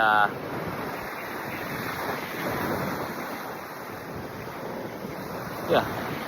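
Ocean surf rolls in at a beach near Paia on Maui, Hawaii, a steady continuous wash of breaking waves mixed with wind buffeting the microphone, with a brief faint clatter near the end.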